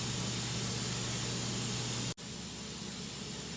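Grease is sprayed from a can onto the splines of a CV axle shaft on a Chevrolet Suburban-type truck, a close, steady hiss lasting about two seconds before cutting off, then softer background noise.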